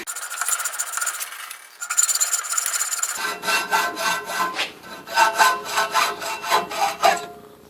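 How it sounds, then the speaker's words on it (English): Hacksaw blade cutting through aluminum stock for special washers in a lathe workshop, steady back-and-forth rasping strokes close up, a continuous stretch followed by a series of distinct rhythmic strokes, no talking. "you get the hacksaw blade down below the surface of what you're cutting"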